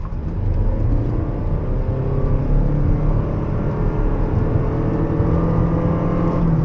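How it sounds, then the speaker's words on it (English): A 2025 Toyota Crown accelerates hard from a standing launch, its engine droning loudly and steadily with deep rumble and whir from inside the cabin, no voices. "So let's launch first."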